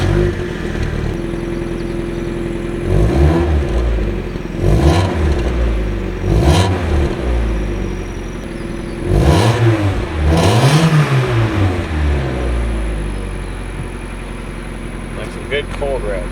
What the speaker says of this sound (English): now we're gonna do a little sound test of the stock exhaust